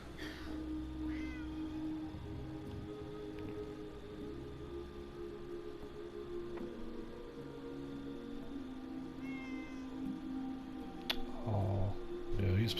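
A house cat pet in the video game Fallout 76 meows softly amid a steady game ambience hum, with a louder burst of sound near the end.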